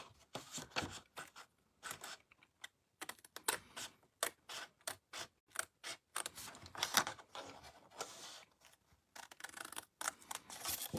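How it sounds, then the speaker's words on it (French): Scissors snipping through a paper card at close range, a quiet irregular run of short crisp cuts and blade clicks with brief pauses between strokes, no talking. "je vais découper au ciseau celle de bas à gauche"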